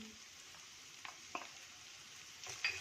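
Chopped potato, peas, carrot, cabbage and capsicum sautéing in a pan for masala fried rice: a quiet, steady sizzle with a few soft stirring scrapes and taps, close and low in level.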